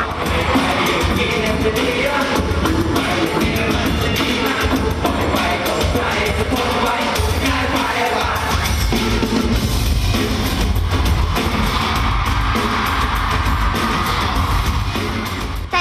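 A dense concert crowd of fans screams and cheers nonstop inside Impact Arena at Muang Thong Thani during a pop concert, a loud, sustained wall of shrieks over booming music with no break.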